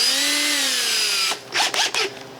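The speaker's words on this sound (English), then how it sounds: "we start drilling it out using progressively bigger drill bits" A power drill with a drill bit bores into an antique oak table, whining steadily and slowing in pitch, then cutting off and giving a few short bursts, close and loud.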